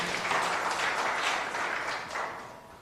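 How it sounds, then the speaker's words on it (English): An audience at the official release of Uganda's 2022 PLE results claps steadily, a dense wash of many hands that gradually fades toward the end. "A bigger round of applause to the UNEP team."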